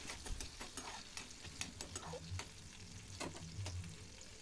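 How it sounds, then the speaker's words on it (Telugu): Dried shrimp fry with turmeric in a little oil in a pan, a soft crackling sizzle broken by repeated sharp scraping clicks of stirring, close and fairly quiet. "ఈ విధంగా వేసుకున్న దాంట్లో కొంచెం పసుపు అయితే వేసి వేయించుకోవాలి"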